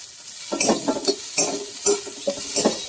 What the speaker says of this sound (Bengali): পেঁয়াজটা ভাজাও হয়ে যাবে আর একটু গলেও যাবে।